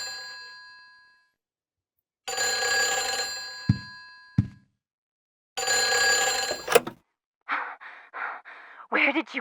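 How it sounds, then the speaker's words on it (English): Telephone ringing in the survival-horror video game Silent Hill 4: The Room, two long bursts of loud electronic ringing separated by silence, followed by short breathy sighs or gasps with eerie game ambience. "The phone begins to ring, and what Henry hears places doubts on wheth"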